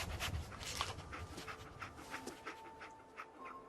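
Dogmeat, the dog in Fallout 4, pants in quick, breathy rhythmic puffs close by, mixed with short sniffs, fairly soft overall.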